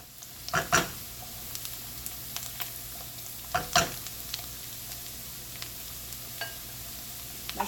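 Garlic and shallots sautéing in a pan for shrimp scampi, a steady soft sizzle with occasional louder scrapes and stirring clatters, close and fairly quiet, with no talking.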